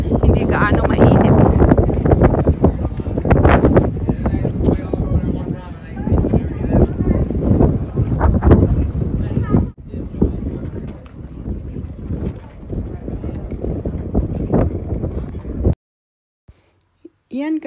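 Strong wind buffets the microphone on a hilltop at Castillo San Cristobal, a fort in San Juan, Puerto Rico, a loud continuous roar with gusts, dropping out abruptly near the end.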